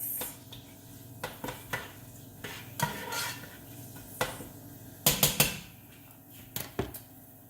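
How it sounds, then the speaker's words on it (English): Cabbage soup with sautéing peppers is stirred in a pot on a stovetop, a spoon scraping and clinking against the sides in irregular strokes. A cluster of quick knocks comes near the end, over a faint sizzle. "I'm going to start stirring this up in the pot."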